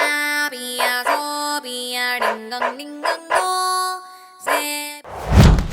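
Stray dogs on the streets of Tumakuru bark and whine in a run of sharp, pitched cries, close and fairly loud, ending in a rough noisy burst.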